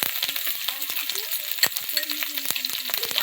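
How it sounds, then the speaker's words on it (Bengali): Chopped tomato fries in a hot pan with ginger paste, a close, steady sizzle broken by frequent clinks and scrapes of a spoon stirring against the metal. "আর দিয়ে দেবো টমেটো কুচি, দিয়ে আবারও একটু ভেজে নেব।"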